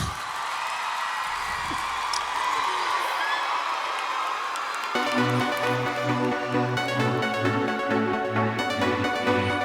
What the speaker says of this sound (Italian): Voglio un applauso forte per il mio papà!